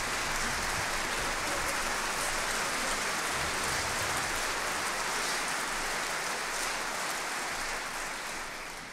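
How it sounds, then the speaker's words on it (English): Audience applause for the Mantovani Orchestra, a dense, hissing wash of many hands clapping that stays loud and continuous, then begins to taper near the end. "Would you like to give them a round of applause before they start?"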